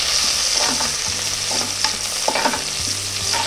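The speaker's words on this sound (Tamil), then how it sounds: "இதை நல்லா வதக்கிக்கோங்க." Onions sautéing in hot oil in a pan for mutton curry, with a steady sizzle and a spatula stirring and scraping in uneven strokes close by, and no voices.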